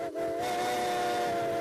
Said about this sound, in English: Every time the toot of a steam locomotive's whistle fills the air